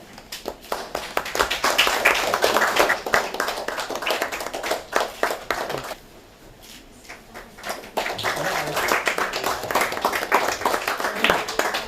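Applause at a district Beti Bachao Beti Padhao event, a crowd clapping loudly in irregular bursts that briefly fade around the middle before swelling again, without speech.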